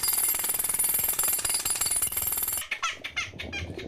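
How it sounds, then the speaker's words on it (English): A pneumatic drill hammers in a loud, rapid, continuous rattle, then cuts out abruptly and gives way to a baby's high, squealing cries. "a baby's cry is just as hard to ignore as this pneumatic drill."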